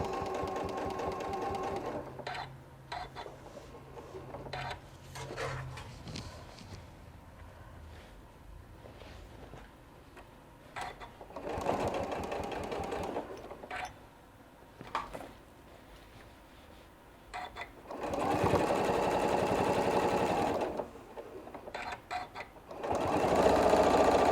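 Sewing machine stitching a St. Patrick's Day table runner with a wider stitch setting, running in several close, steady whirring bursts separated by short pauses, with no talk.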